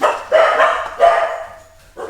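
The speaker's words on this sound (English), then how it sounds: "then the dogs decided to check if the sound sounds okay too" A few loud, close dog barks in quick succession, with a pause before a final bark, heard in a home kitchen.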